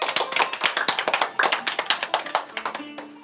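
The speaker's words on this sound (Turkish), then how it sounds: "Alkışlıyoruz ama." Hand clapping for a contestant on a children's Ramadan quiz show, a quick run of sharp, evenly paced claps from a few people, close and fairly loud, fading slightly toward the end.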